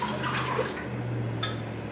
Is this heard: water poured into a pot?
yes